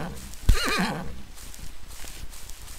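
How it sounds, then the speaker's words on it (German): A horse in the video game MineClone 2 for Minetest gives a single short, clear whinny with a wavering pitch, fairly close and loud over faint background game ambience. "Ach ne, das ist ein Pferd."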